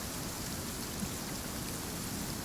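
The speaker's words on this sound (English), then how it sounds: "And now it started raining." Steady, even rainfall in the video game Genshin Impact hissing throughout, a dense wash of drops on a surface with no voices and no breaks.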